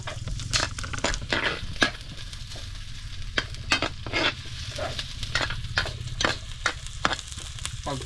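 Garlic frying and sizzling steadily in a pan, with frequent sharp scraping strokes of stirring, loud and close, and no one talking.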